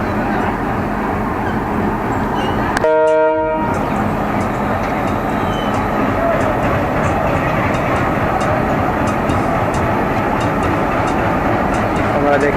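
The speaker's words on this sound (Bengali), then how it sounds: "কিছুক্ষণের মধ্যেই ছেড়ে চলে যাবে এই নকশিকাতা এক্সপ্রেসটি" The Nakshikantha Express pulls out of a station, its continuous rumble and rolling rail noise steady throughout, with a brief horn-like tonal blast near the start and a voice talking over it.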